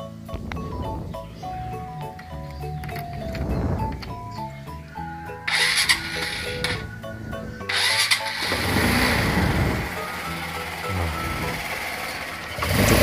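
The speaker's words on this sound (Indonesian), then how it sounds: "Lalu motor kita nyalakan." A motorcycle engine is started with its exhaust fitted to a tire-inflating setup, cranking and catching into a steady running rumble with bursts of louder revving, close and continuous throughout.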